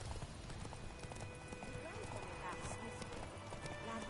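A horse gallops in The Witcher 3, its hooves making a fast, steady clip-clop close by with a brief whinny, while voices talk over the hoofbeats throughout.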